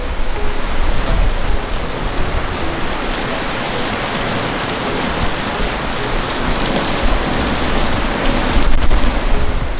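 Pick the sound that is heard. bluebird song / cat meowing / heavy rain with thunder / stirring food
heavy rain with thunder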